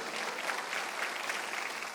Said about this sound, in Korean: 박수를 치며